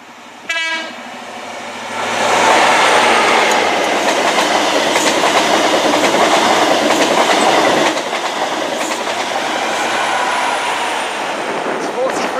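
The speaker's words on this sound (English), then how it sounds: "coming through now is our last train. It is a cross-country HST from Edinburgh to Plymouth." A CrossCountry HST passenger train from Edinburgh to Plymouth, power cars 43357 and 43303, passes through Severn Tunnel Junction station: a horn blast opens, then a loud, steady roar with clattering wheels runs past close by for about ten seconds.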